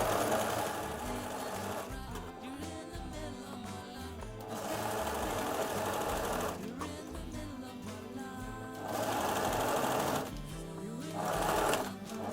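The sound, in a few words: sewing machine stitching knit fabric seam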